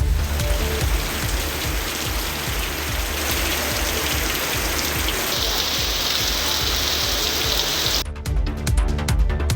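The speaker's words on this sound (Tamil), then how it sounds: "சிவராமபுரம் உள்ளிட்ட இடங்களில் பரவலாக மழை பெய்தது" Steady, dense rain falls in a rural area, producing a continuous loud hiss that lasts throughout, with a brief change in texture near the end.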